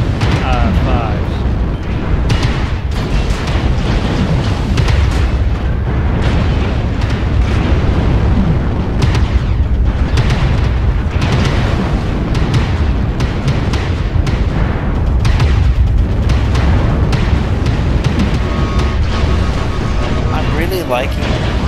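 Rapid autocannon bursts from six Ultra 5s on a mech in MechWarrior Online, loud dense booming shots stacked continuously throughout, with battle noise and talk over the top.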